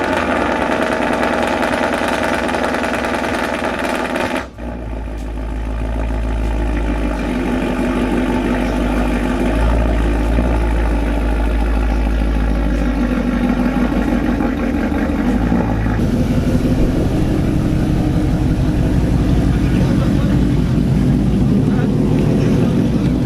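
Truck towing a salvaged 2016 Mustang GT on a trailer: a loud, steady engine and road drone from inside the cab, with a brief dip early on, then continuous rumble to the end.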